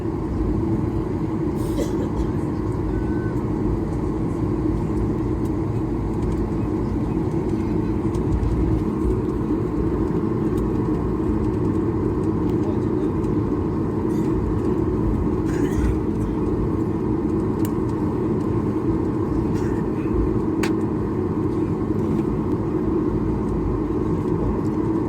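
Akasa Air airliner taxiing onto the runway, heard from inside the cabin as a steady, loud low engine drone and rumble with a few faint clicks and knocks, continuous throughout.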